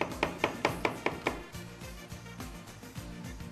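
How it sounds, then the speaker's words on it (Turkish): A knife chops mushrooms steadily on a board, about six quick evenly spaced thuds, then softer irregular cuts continue close up. "Şöyle mantarları sevgili güzelce şöyle bir doğrayalım"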